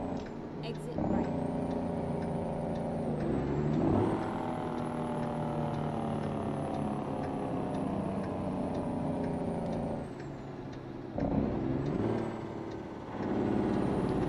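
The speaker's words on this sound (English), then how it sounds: "That's a crazy sound in Jake brake" An engine brake on a heavy truck in American Truck Simulator drones loudly and continuously, a rough rumbling growl that dips briefly at two points before resuming.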